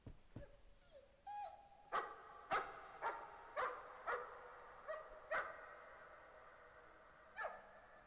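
A dog in the horror video game Layers of Fear barks in a series of about eight sharp, evenly spaced barks, fairly close and clear over a quiet, faintly echoing background.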